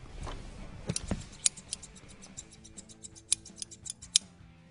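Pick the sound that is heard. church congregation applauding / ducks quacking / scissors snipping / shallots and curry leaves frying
scissors snipping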